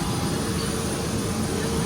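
Constant loud roar of an airplane's jet engines, heard up close from inside the cabin with a steady, even drone.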